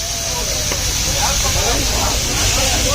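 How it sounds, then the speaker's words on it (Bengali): Hilsa frying in real mustard oil in a restaurant kitchen at Mawa, Padma river, gives off a constant crackling sizzle and hiss, fairly loud and close, with people chattering in the background. "অনেক সুন্দর ভাজা হইতাছে অরিজিনাল সরিষা তেলের।"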